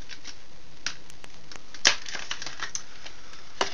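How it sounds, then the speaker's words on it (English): Plastic packaging for a homemade LED glowstick is torn open by hand, giving scattered crinkles and sharp snaps with one louder rip midway, close up and with no talking. "open up the packaging"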